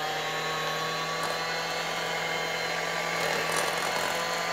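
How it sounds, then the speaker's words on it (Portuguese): A 1960s Walita portable electric hand mixer runs at a steady pace, giving a continuous close motor whine with a faint buzzing edge and no break, and no one talks over it. "Eu coloquei o fermento aqui, agora eu vou bater com a batedeira."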